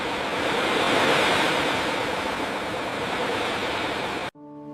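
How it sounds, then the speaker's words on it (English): Heavy stormy ocean waves roll in a continuous loud roar, broad and rushing like surf in wind, then cut off abruptly near the end as a soft tonal sound takes over. "The waves are very strong."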